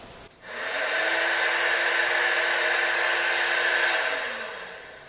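A shop vac hooked to a miter saw's dust collection chamber switches on and roars with a loud, steady turbulent whoosh, then begins to wind down near the end.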